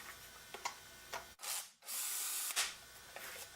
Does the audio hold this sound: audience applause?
no